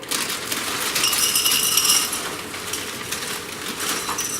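Peeps cereal, a 2019 limited edition, rattles steadily into a bowl, a continuous dry clatter of small pieces with a brighter peak midway, close and fairly loud with no talking.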